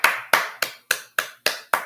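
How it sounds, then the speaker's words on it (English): Seven sharp, evenly spaced hand claps, loud and close, each ringing briefly before the next, with no voices. "Let us applaud Dave Ramsey."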